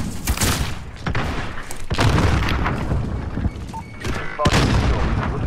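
Cruise missile strike in a first-person shooter: several loud, close booming blasts with sharp cracks, separated by brief rumbling gaps, against a steady bed of battlefield noise.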